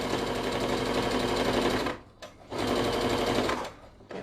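A sewing machine stitches fabric for a handwarmer, a loud, close, fast mechanical whir that stops briefly twice as it pauses and restarts.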